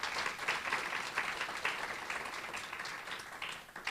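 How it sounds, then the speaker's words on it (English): A school celebration ceremony audience applauds honorees with a steady, moderately loud patter of many hands that fades slightly toward the end, with no talking. "let's give a round of applause to everybody that has been recognized here today"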